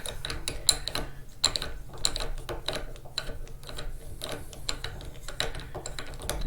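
A guitar tuning peg is turned counterclockwise to wind a new string, giving a rapid, even run of small ratcheting clicks close up, steady throughout with no voices.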